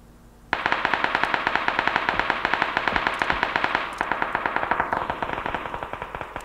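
Sustained automatic gunfire in the PUBG video game, a rapid continuous stream of loud echoing shots with no pauses, slightly changing in tone toward the end.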